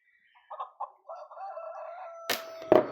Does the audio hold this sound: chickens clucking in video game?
yes